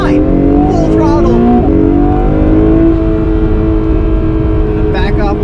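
A 2022 Acura NSX engine is at full throttle, roaring loud and close with steadily rising tones as the car accelerates hard. It sounds continuous and powerful the whole time.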